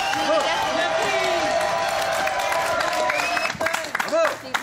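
Studio audience at a live summer holiday TV show applauding the Miss contestants: a steady, loud wash of clapping and cheering with whoops and shouting voices, lasting throughout.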